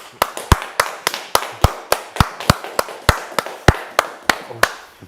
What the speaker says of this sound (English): would you like to introduce our guest while I give them the round of applause?